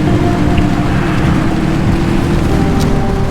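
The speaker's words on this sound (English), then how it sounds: "It is raining now." Steady, dense rain hisses without a break, loud and close, mixed with a low continuous rumble and hum beneath, in the driving video game Pacific Drive.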